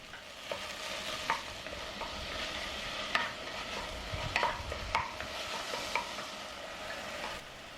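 Minced pork and frozen vegetables fry and get stirred in a hot pan for a Japanese curry bun filling, a steady close sizzle broken by scattered scrapes and clicks of the utensil, with no talking.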